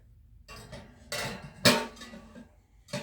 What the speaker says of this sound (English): And I'm going to put the pot back up here.